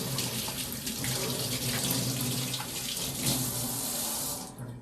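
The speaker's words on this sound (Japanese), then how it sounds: "手を洗います。 手を洗う。 手を洗う。" Hands washed under a running kitchen or bathroom tap, the water hissing and splashing loudly and steadily for several seconds before cutting off at the end.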